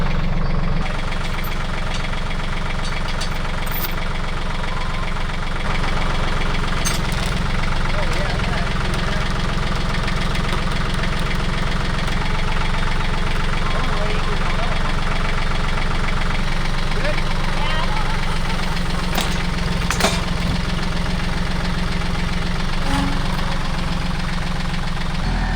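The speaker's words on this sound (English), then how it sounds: "we're gonna try to pull it out with the little tractor" A small tractor engine idles close by with a steady, knocking chug and vibration that runs unbroken throughout.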